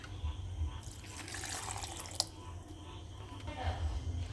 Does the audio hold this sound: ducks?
no